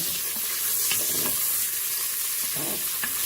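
Lamb osso buco browning in a Cookeo pot while being stirred, a steady bright sizzle with soft scraping strokes of a utensil at irregular moments, close and alone.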